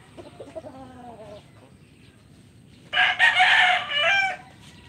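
Soft clucking from a chicken, then a loud, close rooster crow rings out in two strong phrases.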